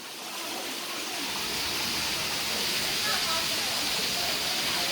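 A water fountain on a university campus in Tamsui gives off a steady, dense rush of splashing water that fills the space and swells slightly louder as it goes on.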